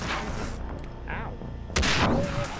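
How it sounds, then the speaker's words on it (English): A grenade explosion in the video game Far Cry 3 Blood Dragon, with a sharp loud boom partway through amid ongoing game noise and a voice speaking. "What are you doing throwing grenades at me?"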